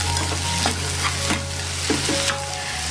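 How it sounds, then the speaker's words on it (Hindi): Onions frying in a pan to a light brown, a loud continuous sizzle close up with occasional stirring scrapes and a steady low hum beneath. "प्याज को हमें हल्का लाल करना है, अच्छे से फ्राई कर लेना है।"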